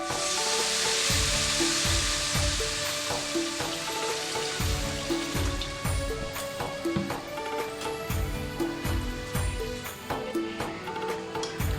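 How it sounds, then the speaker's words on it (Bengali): Water is poured into a pan of fried mutton for the curry gravy, and a loud sizzling hiss fades over the first seconds while a spoon knocks and scrapes the pan in a regular stirring rhythm. "এখন আমি ঝোলের জন্য জল দিয়ে দিচ্ছি।"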